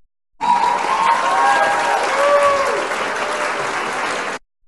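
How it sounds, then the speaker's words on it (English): A studio audience gives a round of applause at a live Thursday-night talk show, a dense steady clapping roar lasting several seconds before stopping abruptly, with faint tonal whistles riding over it. "Give me a round of applause."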